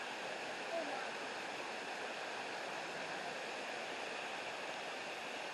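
An outdoor waterfall roars as a constant, even wash of rushing water, steady and moderately distant with no clear breaks, and a faint voice is briefly audible under it.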